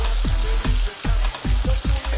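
Chicken fillets sizzle in a hot pan of oil, with several sharp spatters and pops at irregular intervals, close and fairly loud.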